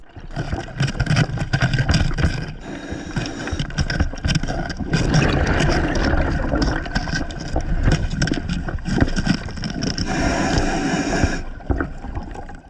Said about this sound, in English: That's the sound of that fish going crazy under that rock